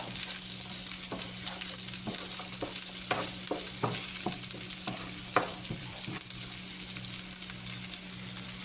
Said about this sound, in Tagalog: Halo-halo na siguro natin ito.